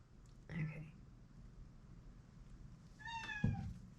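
A cat meows twice from behind a closed door, a short cry followed by a longer, louder one after a quiet pause, faint and somewhat distant.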